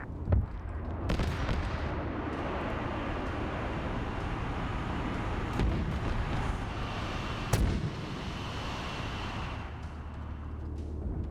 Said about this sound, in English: Oh boy, mortars.